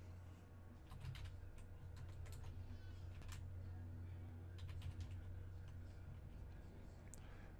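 Keys clatter on a computer keyboard as someone types a name for a video, a quick uneven run of soft taps over a low steady hum, faint and close, with no speech.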